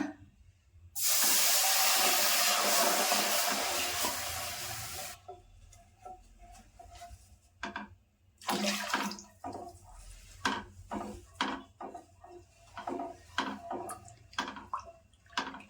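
Two cups of milk poured into a pan for white sauce, a steady liquid stream for about four seconds, then soft splashes, clinks and stirring sounds close by.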